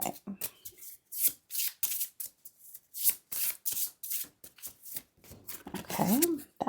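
A deck of tarot cards is shuffled for a reading, giving repeated quick riffling bursts in an uneven rhythm, close and fairly soft, with a brief voice near the end.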